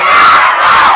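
A large crowd at a Milad celebration roars back in unison in response to a takbir call, a loud, sustained chorus of massed voices close by.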